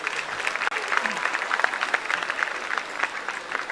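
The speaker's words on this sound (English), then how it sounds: "A round of applause for them all." Crowd applause at a school's 70th anniversary celebration, a loud, busy clatter of many hands with sharp individual claps standing out, lasting a few seconds, with a faint murmur of voices beneath.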